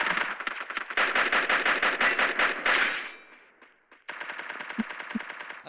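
Rapid automatic gunfire from the Garena Free Fire video game, loud, dense bursts for about three seconds, a brief fade and pause, then another sustained volley with a couple of heavier thuds.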